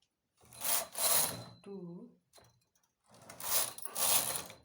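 Hand knitting machine carriage sliding across the needle bed knitting a two-colour baby sweater design, two long swishing passes with a rattling mechanical texture, close up, with a brief voice between them.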